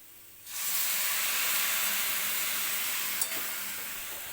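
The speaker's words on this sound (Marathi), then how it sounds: "आता मी याच्यामध्ये दूध टाकणार आहे" Milk poured into a hot pan of sautéed grated beetroot and coconut sets off a loud, steady hiss that starts abruptly and holds with a brief sharp crackle near the end, no voices over it.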